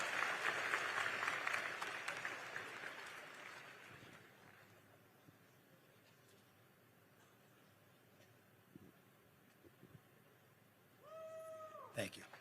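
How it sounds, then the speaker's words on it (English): An audience at a Charlie Kirk political event applauds for about four seconds, then the clapping dies away into a quiet room, with a brief tonal squeal near the end. "Give Liam a round of applause, folks, for being brave and asking a tough question."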